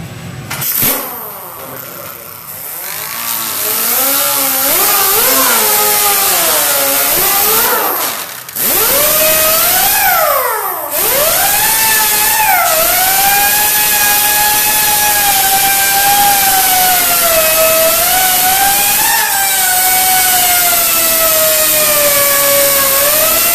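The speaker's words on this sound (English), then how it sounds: "He sanded at an angle." A power sander with 36 grit sandpaper grinds open a crack in a bathtub, a loud, steady whining drone whose pitch rises and falls as the load changes, briefly stopping twice before running on continuously.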